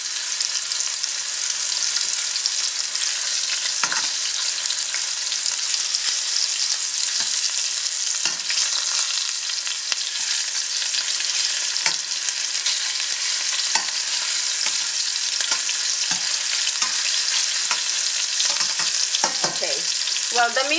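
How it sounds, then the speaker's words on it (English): Beef chunks browning in a hot pan for stew give a steady, loud broadband sizzle with occasional soft scrapes and stirring clicks, continuous and close with no voices. "we're going to brown the beef on all sides."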